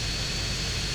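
Airplane engine in the GTA San Andreas air race: a steady, loud, continuous drone with a broad hiss and low rumble, unbroken through the whole second with no voices.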